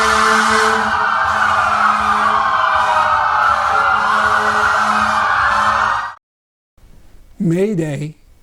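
A loud, continuous wailing emergency-vehicle siren close by at a protest for about six seconds, cutting off abruptly, followed by a short burst of another siren whoop.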